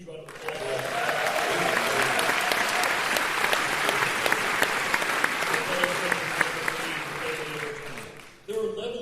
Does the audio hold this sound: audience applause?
yes